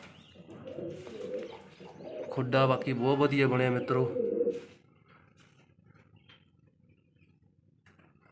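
Pigeons in a loft of paired nesting boxes give a burst of deep, throaty cooing lasting about two seconds, close and fairly loud, while someone talks over it before and during; afterwards only faint room noise remains.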